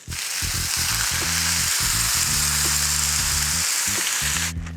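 Food sizzles in olive oil in a pan, a steady close frying hiss over a low humming drone, cutting off abruptly near the end.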